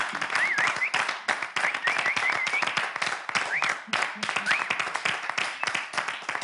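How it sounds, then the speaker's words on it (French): An audience claps along through a French live broadcast. The claps are dense and sustained, with whistle-like tones and some voices mixed in. "Allez, applaudissez. Applaudissez."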